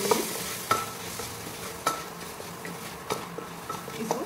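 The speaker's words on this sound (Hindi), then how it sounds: "इसको 2 से 3 मिनट के लिए पहले फ्राई कर लूँगी" Bottle gourd and chana dal sizzle in a pan as a spoon scrapes and stirs them. The scrapes come as sharp, close strokes about every second, over a soft continuous frying hiss.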